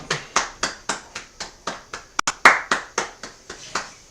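Steady hand clapping, about a dozen sharp, evenly spaced claps at a brisk rhythm, close and clear with no talking.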